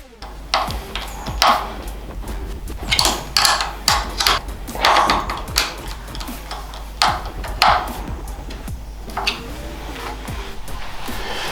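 A Phillips screwdriver and 10mm spanner tighten the plate holder of a Mustard Bikes tail tidy on a Ducati Panigale or Streetfighter V2, giving scattered close metallic taps, ticks and clinks in an irregular rhythm, with no talking.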